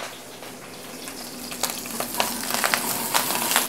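Whole cooking greens, uncut, dropped into hot oil over medium-high heat, a crackling sizzle that builds with sharp pops and spatters, close and moderately loud with no talk.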